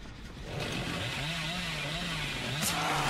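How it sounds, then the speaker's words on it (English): The killer's chainsaw in the video game Dead by Daylight revs in a continuous buzzing engine drone that swells slightly over a dense, noisy game background. "And Rixa goes down to a chainsaw."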